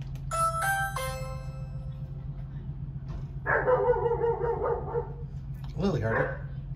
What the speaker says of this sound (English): let me know if the regular doorbell will work